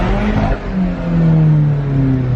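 An Alfa Romeo 4C sports car on a London street, its engine revving close by, the pitch dipping and then climbing in a loud, throaty surge that holds steady toward the end.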